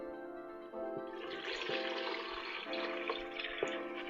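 Brine poured from a container into a Ziploc bag holding a beef roast for homemade corned beef, a steady liquid splashing and gurgling for several seconds, fairly quiet and close, with no talking.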